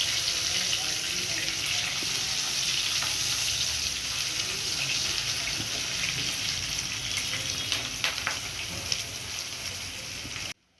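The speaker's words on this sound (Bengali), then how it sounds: "এই তেলের মধ্যে পেঁয়াজটা দিয়ে দেবো।" Onion frying in oil, in the same oil just used to fry chicken, gives a continuous, bright hiss and sizzle with a few faint stirring knocks, close by and steady throughout, with no voices.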